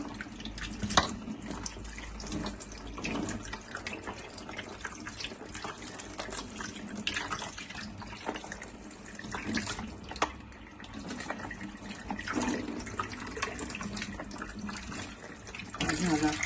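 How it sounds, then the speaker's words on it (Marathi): Running tap water streams over a robot vacuum cleaner's filter as it is rinsed clean with plain water, giving a steady close splashing and gurgling wash that continues throughout with a few brief louder splashes. "हे मी पाण्याने धुणार आहे आता"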